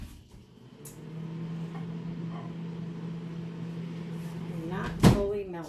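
A microwave oven melting butter gives a steady low hum for several seconds, then a loud clunk as its door opens, while a person talks nearby.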